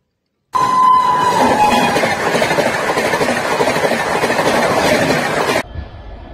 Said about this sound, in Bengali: এই মুহূর্তে আমাদের ট্রেন কিন্তু এনজিবি স্টেশন থেকে বেরিয়ে যাচ্ছে।